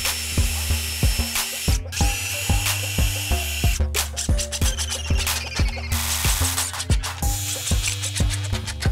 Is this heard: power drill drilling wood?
yes